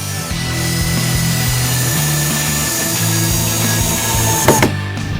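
A power drill drives the longest self-tapping screw into wood with a steady, close-up motor whine and grinding churn for several seconds, briefly catching near the end.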